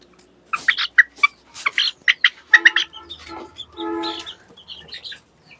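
Free-range desi chickens in a small backyard farm cluck in a series of close, irregular bursts, with busier overlapping calls near the end.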